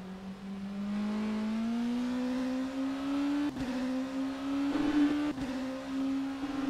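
LMP2 prototype race cars in the rFactor 2 racing simulator, lapping Indianapolis in rain with a full grid: one engine's steady whine climbs gradually in pitch, with brief shifts and a faint rush of other cars around it.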